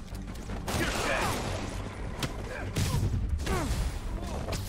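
Gunfire cracks through a busy Spider-Man video game fight, sharp shots scattered among thuds, whooshes and impacts, loud and close over a constant action soundtrack.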